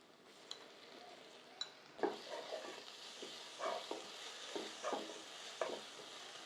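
Ginger garlic paste fries in a hot pan for a crab curry, giving a soft sizzle with scattered clicks and scrapes of stirring that grow busier midway, faint and close with no voices.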